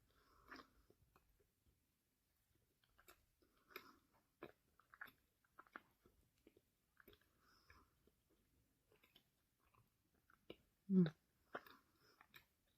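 Someone eats clean, fatty, airy edible clay, giving soft close-up chewing with scattered small bites and squishy crunches and one louder bite near the end, quiet and with no talk.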